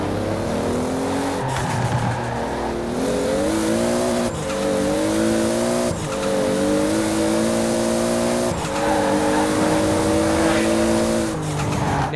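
Toyota Supra Mk IV engine from Forza Horizon 4, a steady, loud drone with rising and falling revs across several gear changes, short dips between shifts, with no talking over it.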